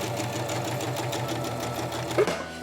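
Sewing machine stitching caftan fabric in a fast, steady run of needle clatter, close and prominent, with a brief louder knock near the end.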